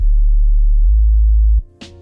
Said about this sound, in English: Sine wave, automation.